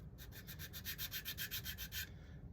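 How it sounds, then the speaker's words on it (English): Rhythmic sanding strokes, about a dozen quick back-and-forth rubs of sandpaper on wood, close and steady, then stopping. "Do a little bit of sanding just to get rid of any little"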